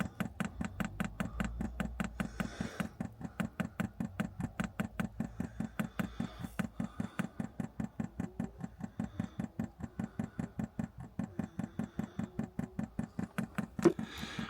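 Diesel heater fuel pump ticking in a steady, fast rhythmic pulse throughout, close and moderately loud, with a faint low hum underneath.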